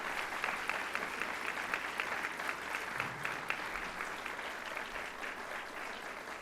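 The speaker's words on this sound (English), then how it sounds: "Let's give them a round of applause." Audience applause at a NASA awards ceremony: a dense, steady clapping from a large crowd filling the room throughout, loud and continuous without pauses.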